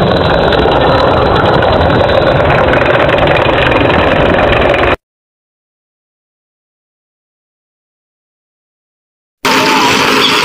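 A steady, loud motorcycle engine drone that cuts out to silence for a few seconds, then returns just as strongly.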